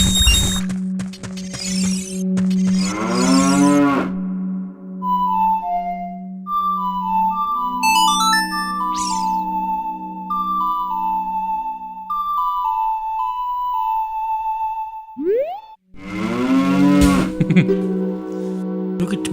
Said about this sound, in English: Look at me, I'm a cow. Moo moo moo.